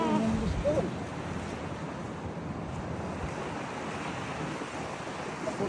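Ocean surf rolls in at a Hawaii beach, a steady broadband wash with wind rumbling across the microphone, fairly soft and continuous, with a brief faint voice near the start.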